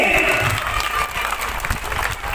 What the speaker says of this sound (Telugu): సూపర్, గట్టిగా క్లాప్ కొట్టాలి పిల్లలకి